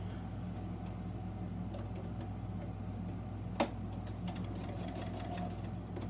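Sewing machine stitching a seam straight across fabric for a box bag, a close steady mechanical whir with a low rhythmic hum and one brief sharp click partway through, no talking.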